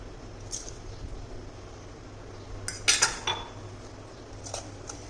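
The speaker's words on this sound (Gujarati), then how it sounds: "તો અત્યારે લસણ કેરીનું અથાણું આપણે એક જારમાં ભરી લઈશું" Garlic mango pickle is spooned into a jar, with faint scraping and a few sharp clinks of a metal spoon against the container in a quiet kitchen.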